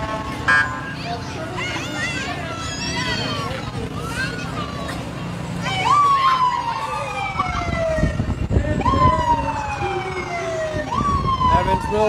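Wailing ambulance siren sweeping up and down repeatedly at a Christmas parade, growing louder partway through, over a background of traffic and crowd noise.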